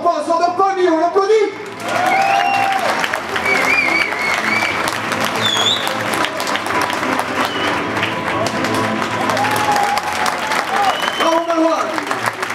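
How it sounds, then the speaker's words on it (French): Loud audience applause with cheers and whoops at a kickboxing gala fills the hall for a young kickboxer's demonstration bout, steady throughout, while an announcer speaks over the crowd. "Allez Mio, ça dort pas Mio, on l'applaudit"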